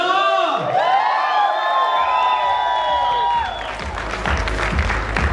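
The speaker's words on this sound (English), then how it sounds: "Can we give a huge round of applause?" An audience at an IFBB pro bodybuilding competition in India breaks into applause and cheering with whoops. After a sustained tonal opening, the crowd roar builds and carries to the end.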